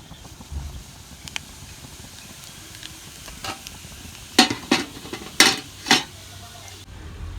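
Cumin seeds frying in hot oil in a pan over medium flame give a soft, steady sizzle, with several sharp metallic clinks and scrapes of a utensil stirring against the pan near the end.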